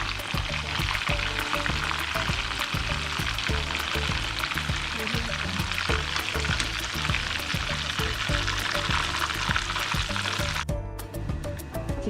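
Chicken pieces fry in hot oil with a steady, dense sizzle and bubbling that runs nearly throughout, close and loud, ending with a brief change as the chicken is lifted out.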